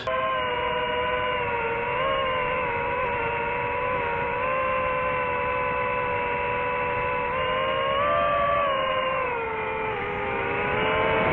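A DJI Avata FPV drone whining in flight, its propellers producing a sustained, loud buzzing hum with stacked tones that rise and dip slightly as it manoeuvres, heard alone without talk.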